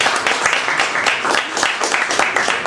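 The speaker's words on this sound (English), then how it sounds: "Round of applause please." A crowd at a UK classic arcade game tournament applauds with steady, dense clapping, moderately loud and sustained throughout, with a few voices mixed in.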